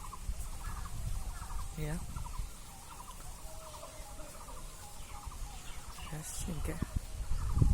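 Chickens clucking and calling softly in the background, with occasional louder squawks and some distant talking, outdoors with steady ambient noise.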